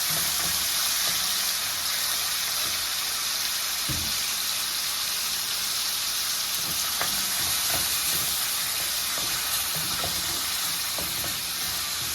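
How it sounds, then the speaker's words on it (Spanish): Cooking ham frying in preheated oil, a loud steady hiss and sizzle that stays close and even for twelve seconds, with occasional stirring knocks and no talk. "Le vamos a echar nuestro jamón de cocinar para que este jamón se sofría."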